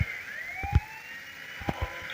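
A police car siren from the mobile game Indian Bike Driving 3D wails in a continuous rising and falling tone, moderately loud, with a few low thumps beneath and no speech.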